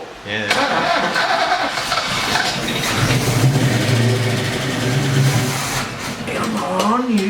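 A Holden VK Commodore engine cranks and catches, then settles into a steady fast idle with rises in revs, close and loud, with people talking over it.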